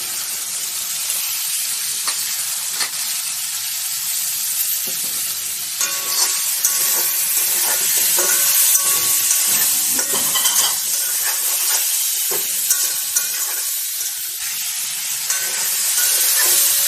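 Chicken pieces frying in a pan with turmeric, salt and chili powder, a steady loud sizzle throughout with scraping stirs and spatula clinks, no voices.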